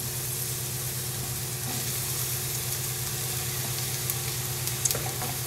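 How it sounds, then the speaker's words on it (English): Eggplant pieces fry in a pan with a steady, close sizzle and a low continuous hiss, with a few small pops and crackles scattered throughout and no talking. "We'll add the remaining eggplant for our second pass."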